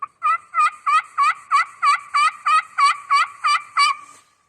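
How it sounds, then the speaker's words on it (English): A turkey pot call with a half-blasted surface worked by a striker out near the edge, giving about twelve evenly spaced, sharp yelping notes in a steady rhythm, close and clear with no voices. "with a half blasted surface, you can play this call all the way out on the edge for a different tone"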